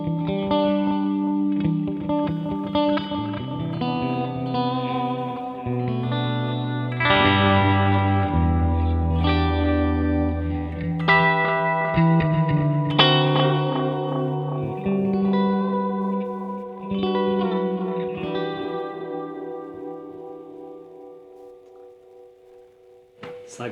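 A melodic instrument run through an oil can delay, with repeating echoes smearing into a droning, degraded wash; notes step through a wandering phrase and decay into a hazy tail, with no talking over it.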